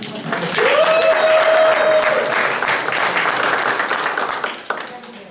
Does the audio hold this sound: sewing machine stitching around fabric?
no